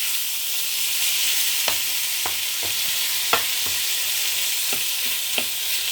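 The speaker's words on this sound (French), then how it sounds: "on va rajouter les tomates. Vous voyez, ça va vraiment rendre de l'eau. On va tourner." Tomatoes frying in a pan give a steady, loud sizzle throughout, broken by several sharp clicks and scrapes as a spoon stirs them, with no talking.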